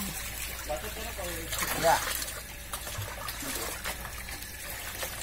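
Water being poured with freshly harvested catfish at a home catfish harvest, a soft trickling and splashing beneath people talking, with a brief louder splash near the middle.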